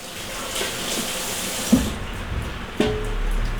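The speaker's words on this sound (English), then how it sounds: "Wash your hands off." Water runs steadily from a tap into a sink while hands are rinsed off during cooking, with a couple of splashy thumps partway through.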